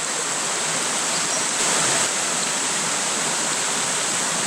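Water pours steadily over rocks in a small brook on Upper Monroe Run, a brook trout tributary of the Savage River, a dense, even rush that fills the whole stretch from near by, with no voices.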